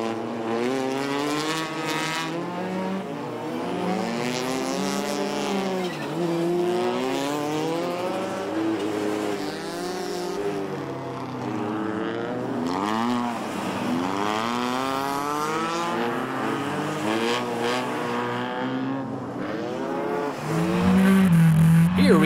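Rally race cars, including a Peugeot, run on an ice track in a racing series, their engines revving loud and steady and rising and falling through gear changes with tire noise underneath.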